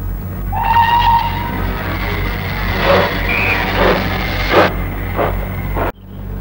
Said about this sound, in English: like this model steam train, a reminder of the good old vanished days of steam